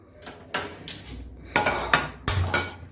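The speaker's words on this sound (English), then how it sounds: "Now I have taken one kadhai with a lid" A metal kadhai and its lid are handled on a stove, giving several sharp clanks and clinks at irregular intervals, close and fairly loud against a quiet background.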